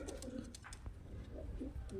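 Pigeons of flying breeds coo in low, soft, repeated bursts, close by and steady across the moment, with no talk over them.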